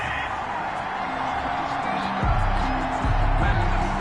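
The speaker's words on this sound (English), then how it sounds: "Well, the crowd doesn't like that." An American football video game crowd reacts angrily to a penalty flag with a continuous, loud roar. The noise swells partway through, and low hums sit underneath it.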